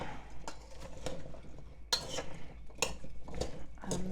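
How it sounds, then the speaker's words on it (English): Seasoned vegetables, Brussels sprouts among them, tossed and stirred in a bowl with a spoon, giving soft scraping and a few sharp clinks against the sides, close and fairly quiet with no talking. "And just stir it up."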